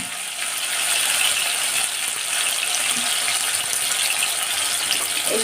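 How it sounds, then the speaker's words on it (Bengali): Potatoes fry in hot white cooking oil in a home kitchen, a dense, steady close sizzle and crackle that runs without a break and without voices. "তেলটা আমার গরম হয়ে গেছে। এই সময় আমি আলুটা ভেজে নেব।"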